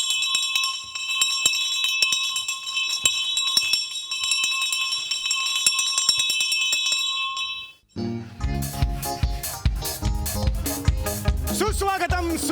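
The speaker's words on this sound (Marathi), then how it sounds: "तिसरी बेल द्या." A third bell before a Marathi stage play begins rings as a long, loud continuous electric ringing, then cuts off and gives way to a burst of loud music.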